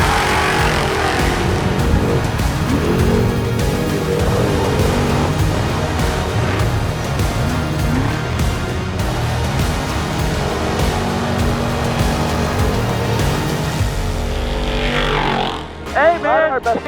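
Off-road race truck engine at the San Felipe 250, a loud, sustained roar with shifting revs heard close up throughout, and voices talking over it, particularly toward the end.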